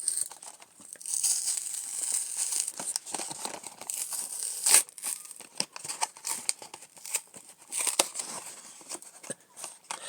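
Packaging of a Disney Pixar Cars 3 diecast toy car being torn and opened up close, a continuous flurry of crinkling plastic, rips and crackles at moderate volume with no talking.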